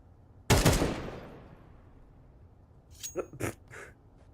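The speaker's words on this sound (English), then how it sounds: "Shooting at painting." A single loud gunshot with a long decaying tail in Counter-Strike, followed after a pause by a few short, sharp cracks of shots striking a painting.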